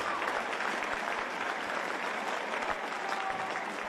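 An arena crowd at a basketball game applauds steadily for an injured player, a dense, even wash of clapping from many hands that holds for several seconds at moderate distance.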